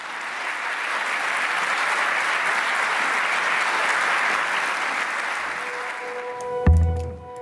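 An audience claps steadily for Ariana Said, a dense sustained wash of applause that fades near the end as a sharp knock and ringing tones cut in.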